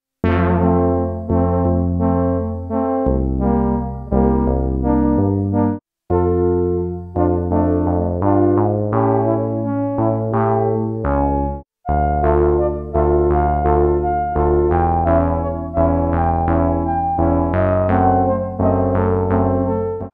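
Roland SH-101 synth chord pad, multi-tracked into harmony, sounding as steady repeated chord stabs with brief gaps, loud and alone.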